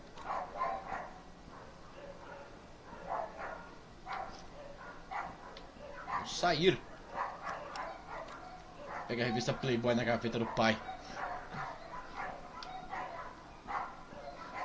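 A dog barks outside in the Sally Face video game, with a few short barks and whimpers rising mid-clip while a person talks over the game audio.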